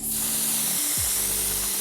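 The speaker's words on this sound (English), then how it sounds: "We're gonna spray our face down with some all-nighter." A steady, close hiss of setting spray misted onto a face runs unbroken for a couple of seconds, with a low hum underneath.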